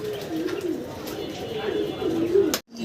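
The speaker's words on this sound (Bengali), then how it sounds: "এক জোড়া আমেরিকান লক্ষা কবুতর" A pair of American Lakka fantail pigeons at a fancy pigeon farm coo nearby in a continuous low, warbling rumble that swells toward the end before cutting off abruptly.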